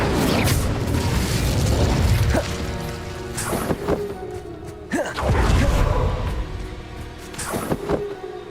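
Incendio fire spell cast in Hogwarts Legacy, heard as loud, rumbling fiery bursts with sharp cracks and booming swells layered in dense game combat noise.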